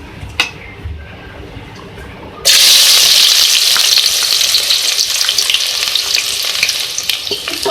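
Onions hit hot mustard oil for a beef turai gosht curry: after a quiet start, a sudden loud, steady sizzle erupts and keeps crackling, with occasional stirring.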